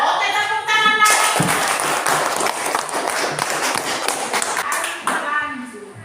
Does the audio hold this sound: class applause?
yes